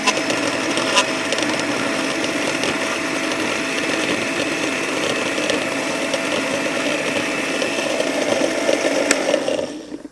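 A blender grinds toasted coconut into kerisik with a steady, loud motor whine and churning that runs without a break for about ten seconds and then cuts off at the end.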